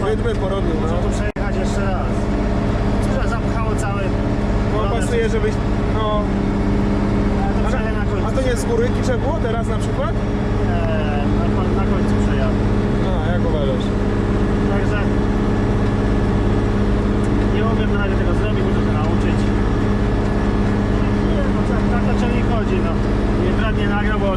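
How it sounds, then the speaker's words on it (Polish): A heavy tractor engine rumbles steadily throughout at close range, a low droning motor with clanks and rattles riding over it. "drugi ciągnik siadamy, drugi ciągnik i jedziemy"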